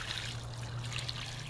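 Water trickles and pours steadily onto the soil around a newly planted dwarf fruit tree in a backyard mini orchard, a soft, continuous close splash with no talking.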